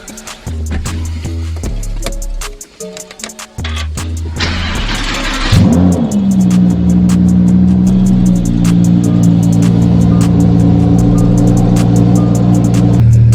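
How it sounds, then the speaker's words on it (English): A Lamborghini Huracan cold start: starter churn and a sharp bark as the engine catches, rising to a loud rev before settling into a steady, high fast idle that holds close and strong for several seconds. "let's go ahead and get a cold start of this Lamborghini Huracan"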